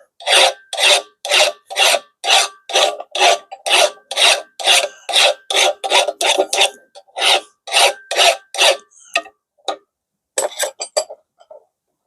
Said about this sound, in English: I'm just going to kind of run the file over at an angle